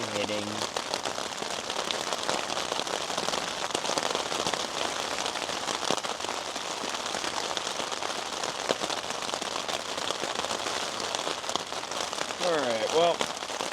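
Rain patters on a packing material shelter during a storm, a dense steady crackling hiss of drops that goes on the whole time, with a voice heard briefly.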